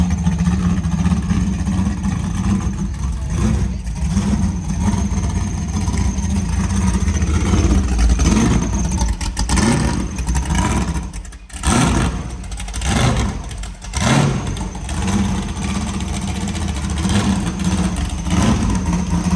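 A stroked 418 LS3 sandrail engine with a single turbo running on a dyno, a loud steady engine drone with rises and dips in revs and a couple of brief drops midway.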